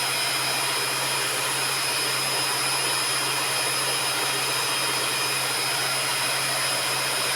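An electric mixer beats sponge cake batter for a lemon mousse-filled cake, with the flour and baking powder already added: a loud, unbroken motor whir with a steady humming drone.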